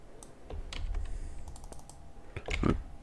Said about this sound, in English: Type in the negative prompt.